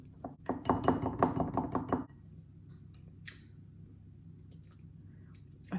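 Blueberries are stirred into muffin batter in a bowl, giving wet squelching strokes with light clinks for about two seconds, then a quiet room.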